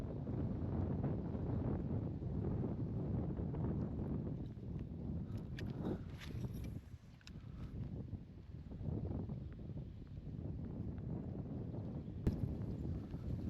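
Wind buffeting a microphone during kayak fishing on open water, a loud continuous low rumble with gusty swells, briefly easing in the middle before roaring back, with a few faint clicks and knocks from the boat.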